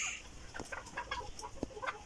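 Farm chickens and roosters cluck close by in a busy, overlapping chorus of short calls at moderate volume, with no talk.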